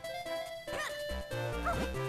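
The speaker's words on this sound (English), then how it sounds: "Dog, you're in the way." A dog in the video game Zelda: Minish Cap gives a couple of short, yippy barks over the town's cheerful background music.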